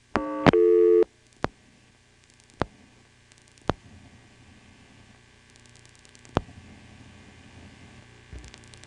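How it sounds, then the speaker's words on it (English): An NX1 telephone exchange from 1977 in Vanceboro, North Carolina, answering a call to the caller's own number: a short burst of steady multi-pitched tone, then sparse sharp clicks spaced over several seconds against a low line hum. "Another thing which is NX1-like is what happens when you dial your own number."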